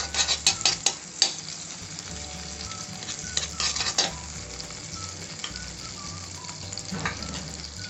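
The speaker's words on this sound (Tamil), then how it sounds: "இப்போ கடாய் எடுத்து ஆன் பண்ணிக்கலாம். இதில் கொஞ்சம் பட்டர்," Butter melts and sizzles in a hot kadai for butter chicken masala, with metal utensil clinks and scraping at first, then a steady close frying hiss.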